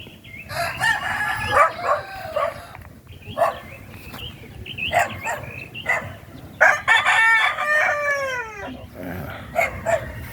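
Gamefowl roosters, Brown McLean and Gray Lazy Roundhead breeders in a hot outdoor yard, crow repeatedly and loudly, several long drawn-out calls close by, with clucking and a dog barking or howling in the background.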